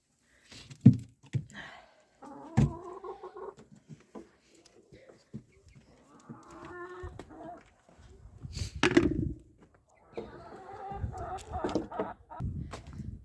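Several hens cluck in short bursts close by, with quiet gaps and a couple of thumps in between.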